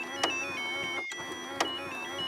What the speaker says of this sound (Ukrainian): Digital Alarm Clock є різні рингтони будильника